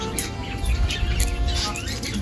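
Parrots squawk and chirp at feeding time in a bright, busy cluster of sharp calls over low background rumble and handling noise, loud and close.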